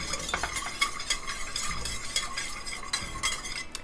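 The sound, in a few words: whisking sauce ingredients in a pan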